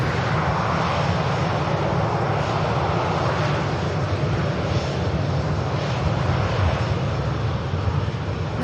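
An aircraft engine roars steadily at Manchester Airport, a broad, loud rumble that holds unchanged throughout without any talk.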